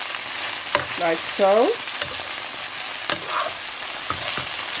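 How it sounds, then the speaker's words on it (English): Broccoli and garlic stir-fry in chili oil, a soft sizzle broken by sharp scraping clatters of stirring and a few brief squeaky sounds, with a few quiet spoken words. "Just need some stir-fried broccoli in chili oil with garlic to accompany my sweet corn"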